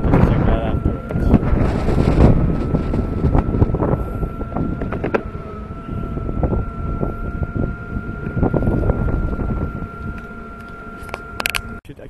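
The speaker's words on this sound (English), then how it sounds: "the wind's blowing pretty hard" Strong outdoor wind buffets the microphone in heavy, uneven gusts for the whole stretch, with a faint steady motor whine from an Airwheel M3 underneath and occasional clunks.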